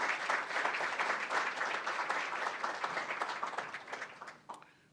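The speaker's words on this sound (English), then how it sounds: "Please give, again, our sponsors a thunderous round of applause." Audience applause for event sponsors at a concussion-education meeting, a steady burst of clapping from a sizeable crowd that holds strong for several seconds, then thins and fades out near the end.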